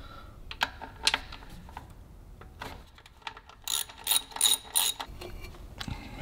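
A ratchet backs out two 10 mm bolts holding the EVAP unit on a Nissan GT-R, close up, with a run of quick pawl clicks and sharper bursts of ratcheting near the end.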